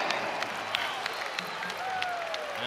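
Arena crowd at the Wells Fargo Center roars and applauds steadily after a breakout and foul in a Villanova vs Nicholls State college basketball game, a dense, sustained wash of cheering.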